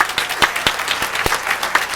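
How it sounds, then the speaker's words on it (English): A church congregation claps in a short, lively burst of applause, the individual hand claps sharp and uneven and fairly close, with no talking over it. "Give yourself a round of applause today."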